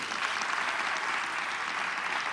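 A studio audience claps steadily for the whole stretch, dense even applause that holds at full level from start to finish, with no voices over it.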